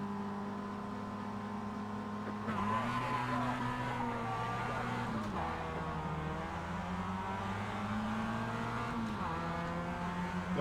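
Several race cars in a racing video game accelerate together off the start line, a dense engine drone whose pitch rises and shifts through gear changes, steady and loud throughout.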